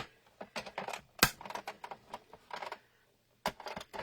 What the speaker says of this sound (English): And we're going to run it through the machine again.